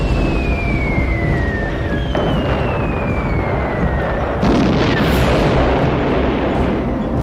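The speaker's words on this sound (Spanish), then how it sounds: "mandaron a bombardear todo el pasillo de zombies" Bombing run in the Worldbox game, with a dense, continuous roar of explosions and rumbling blasts, whistling tones sliding downward overlaid, and a sharper burst partway through, loud and without speech.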